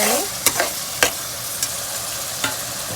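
Masala paste for a Telugu chicken curry frying in oil in a pan, a steady close sizzle broken by a few sharp scrapes and clinks of a spoon stirring.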